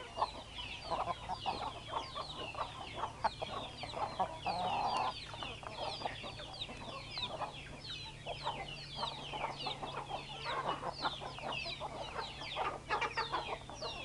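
Giant Indian crossbreed hens cluck softly and repeatedly amid a busy, steady background of other birds chattering, with no one speaking.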